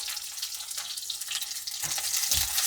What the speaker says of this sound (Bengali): রসুনগুলোকে একটু নাড়াচাড়া করে নিচ্ছি।